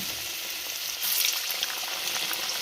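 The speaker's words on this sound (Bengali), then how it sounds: "এখন আমি একে এক করে কুমড়িগুলোর মধ্যে ছেড়ে দিচ্ছি।" Pumpkin pakoras (kumror pakora) in batter slipped one by one into hot oil, giving a steady bright frying sizzle that swells into a louder burst of crackling about a second in, then keeps bubbling evenly.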